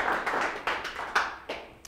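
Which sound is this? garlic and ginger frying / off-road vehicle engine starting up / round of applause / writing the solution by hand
round of applause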